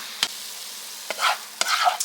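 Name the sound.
stirring taco sauce into frying Tex Mex leftovers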